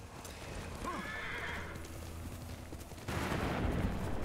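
A horse whinnies loudly near the start in Ghost of Tsushima, with hoof clip-clops and steady background game noise; a burst of louder ambient noise follows.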